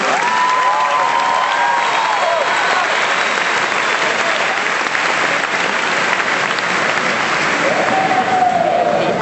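A graduation-ceremony audience at the Nissan Pavilion gives the staff loud, sustained applause with cheering from the crowd, a dense wash of clapping that holds steady for the whole stretch.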